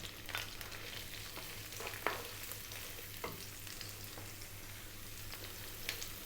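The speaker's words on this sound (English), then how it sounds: "we're going to start off by dropping in our onion" Chopped onion sizzling in hot oil for a Greek beef and tomato stew, a steady faint crackle and hiss with occasional small pops, no voices.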